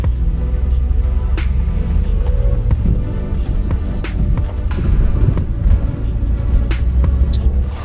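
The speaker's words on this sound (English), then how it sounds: "been driving along about a K now since the last turn off" A 4WD vehicle drives along a dirt track near Perth, Western Australia, giving a loud, steady engine and road rumble with frequent sharp rattles and knocks from the bumpy surface. No one speaks.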